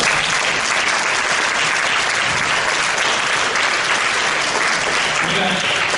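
A church congregation at a Christian service claps together in sustained, dense applause that stays loud and even throughout, filling the hall without pause.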